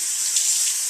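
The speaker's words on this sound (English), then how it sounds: "You want to use hot water from the tap" Hot water pours steadily from a tap into a sink, a continuous close hiss with no voices.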